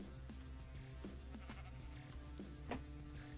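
Sheep bleat in the video game Minecraft, a few quiet, repeated bleats popping up over a constant low hum of game ambience and music.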